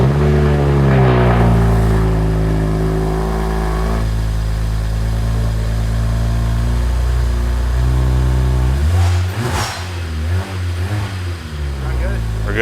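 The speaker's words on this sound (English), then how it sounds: "I love that blow-off valve. I think it sounds cool. It has just a tiny whistle to it." Tuned BMW 1M or M3 engine revving and settling with a steady droning note, then a sharp blow-off valve release with a faint whistle as the revs drop, close and loud.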